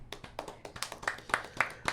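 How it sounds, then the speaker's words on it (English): Podcast hosts clap a round of applause, a steady run of sharp, close handclaps with a brief lull around the middle, loud and alone with no talk over it. "can we just give a round of applause?"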